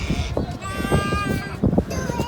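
Lambs and goats bleat among a busy crowd at a livestock and bird market in Saihat, the calls near and repeated while people talk continuously in the background.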